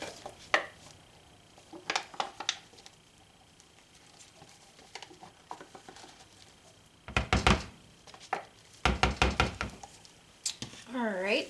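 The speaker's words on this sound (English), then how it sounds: "I'm just going to go ahead and finish scraping these cups out and plopping it in the bowl" Cold process soap batter for cupcake-style soaps scraped out of cups and plopped into a bowl, heard as scattered knocks, thunks and scraping taps, with a busier burst of clatter near the end and talk in between.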